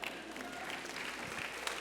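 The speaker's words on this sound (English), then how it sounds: "Does anyone here feels like you need a little bit more courage? Yes? Clap." Listeners at a church service clap briefly in response to a question, a soft, moderately dense patter of hands heard at a distance over a low room hum.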